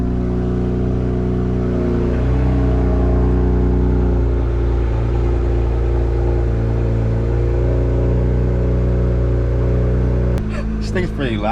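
A BMW E92 335is engine idles and revs loudly through its exhaust, a deep steady drone with rising and falling pitch, close and dominant, briefly rising sharply near the end.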